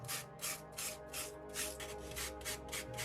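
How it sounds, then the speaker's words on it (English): Craft foam for a scratch-built wasteland diorama trimmed and scraped with a hobby knife, giving steady, rhythmic rasping strokes, close and continuous with no talking. "It's amazing how messy this foam can be when you're trimming and scraping it."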